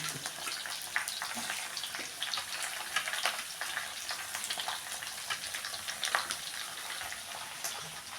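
Bitter gourd gravy cooks in a pan, a steady close sizzle and bubbling crackle running throughout with scattered louder pops and faint stirring, no voices.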